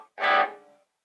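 A Vintage V100 electric guitar played on its W90 bridge pickup alone, clean tone, sounding a single strummed chord that rings briefly and decays within about half a second, with no voices.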